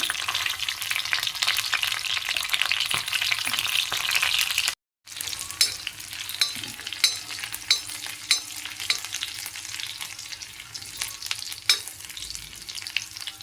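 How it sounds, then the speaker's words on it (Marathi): Green chilies sizzle and fry in a little hot oil in a pan, a steady crackling hiss that stops for a moment and then carries on with small sharp pops and clinks. "आता आपण त्याच्यामध्ये मिरच्या घालूया मिरच्या व्यवस्थित भाजून घ्यायच्या"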